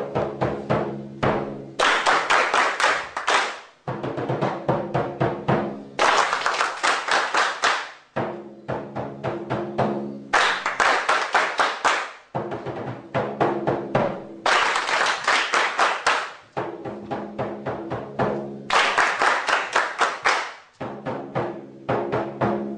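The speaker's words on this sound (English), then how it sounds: "I want you all to clap that rhythm back to me" A group claps back rhythmic patterns in unison during a music workshop, loud sharp bursts of hand claps alternating with short pauses, repeating several times like call and response.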